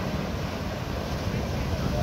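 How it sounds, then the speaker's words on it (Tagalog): Big sea waves churn in a constant loud roar under heavy wind buffeting the microphone, with no breaks across the short stretch. "Laki ng alon."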